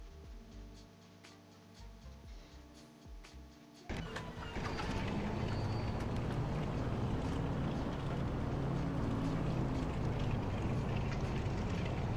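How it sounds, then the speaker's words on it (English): Left engine of a piston aircraft in the Round the World flight simulator starting up: starter whine and sputtering turns, then the engine catches and settles into a loud, steady roar. "we've got a good left engine"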